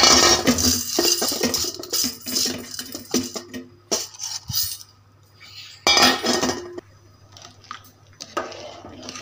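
A spoon clinks and scrapes against a metal pot of pigeon pea lentils cooking in water, in bursts of stirring separated by brief quiet pauses, close and fairly loud.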